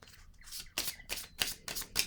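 Close, quiet riffles of tarot cards being shuffled come in about five quick bursts, in a steady rhythm and with no voices.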